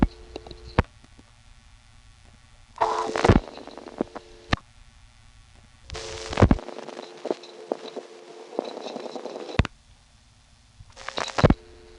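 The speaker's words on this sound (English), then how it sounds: "See, that was the sound of getting a first selector" A 1976 step-by-step telephone exchange in Harrisonburg, Virginia, seizes a first selector on pickup: sharp mechanical clicks and rattling relay bursts over faint humming tones and line crosstalk, recurring several times with quiet gaps between.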